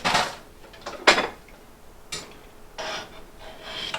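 Pasta being stirred in a cooking pot, heard as several separate bursts of rubbing, scraping strokes and one sharper clink of utensil against the pot, close and moderately loud with quiet gaps between.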